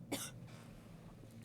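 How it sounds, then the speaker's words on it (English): A single short, close cough bursts out at the start, followed by quiet room noise and a faint click near the end. "I gotta cough."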